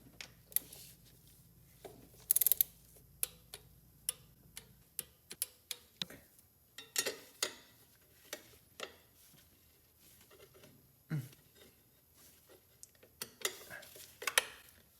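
Wrench clicks and ticking metal taps from tightening valve cover bolts to 17 inch-pounds on a Nissan Xterra engine, a string of sharp, separate ticks spread irregularly through the stretch, close and fairly quiet, with no talking.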